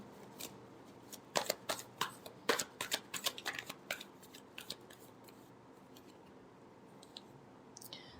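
Tarot deck shuffled by hand, a burst of sharp papery clicks and flicks that thins into scattered taps, close and soft with no voices.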